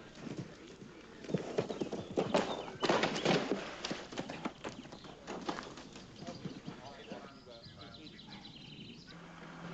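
Horses shift and clop their hooves inside a roomy horse box towed by a 1995 Mercedes G-Class, a close, irregular series of knocks with brief birdlike coos over a low road rumble.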